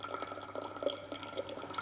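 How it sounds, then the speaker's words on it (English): Hot water trickling and dripping around a flask holding an ethanoic acid reaction mixture in a school lab, soft and close, with faint intermittent drips over a low background hum. "Okay, just gonna add a little bit of hot water."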